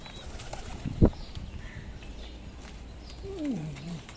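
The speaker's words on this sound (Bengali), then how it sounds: "বেটি কবুতরটা ওটা মারতেছে, ব্যাটাটা দেখেন।" Pigeons scuffle nearby, one sharp burst of flapping wings standing out early, followed by softer rustling and a brief low cooing call toward the end.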